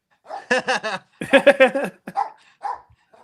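A demanding pet dog barks and yips close by in a few sharp bursts, with short pauses between them and no talking.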